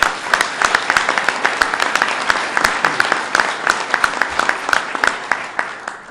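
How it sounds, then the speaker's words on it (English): A live audience applauds at a flood recovery announcement in Herkimer, loud sustained clapping from a crowd with individual sharp claps standing out near the microphone, lasting several seconds. "let's give them a round of applause"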